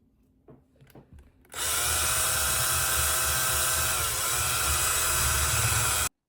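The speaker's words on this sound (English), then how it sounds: "So I took a drill and I started to kind of drill on that." A few light taps and knocks, then a power drill whirs loudly and steadily into plastic washers for about four and a half seconds before stopping abruptly.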